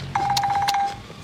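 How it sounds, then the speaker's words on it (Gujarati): A mobile phone gives off a short, steady electronic tone with a faint pulsing warble, close and clear, lasting under a second before cutting off. "કોનો ફોન છે ભોળા દાદા?"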